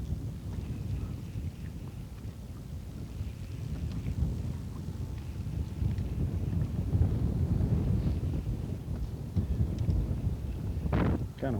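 Wind roars across open water at Truman Lake in Missouri, a steady low buffeting rush that swells slightly toward the middle, with a brief sharper knock near the end and no talking.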